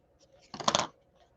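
Scissors trim paper during a Stampin' Up! card-making session, one brief close cluster of sharp snipping clicks in otherwise quiet surroundings.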